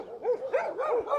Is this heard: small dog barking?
yes